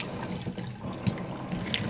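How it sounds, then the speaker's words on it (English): Hot water runs and trickles while product is rinsed off an item, with uneven splashes and drips close by. "Rinse it off, make sure it's getting everything off of it"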